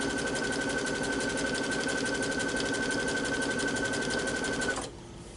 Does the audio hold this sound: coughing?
no